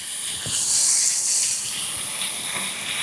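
Steak basted with a knob of butter in a hot pan, a loud steady sizzling hiss close up with faint spatters and no voices.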